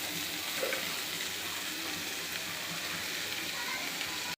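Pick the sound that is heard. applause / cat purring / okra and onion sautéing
okra and onion sautéing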